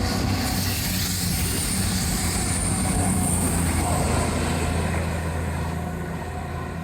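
A train roars past close by, a dense steady rumble of wheels and engine that begins to fade toward the end.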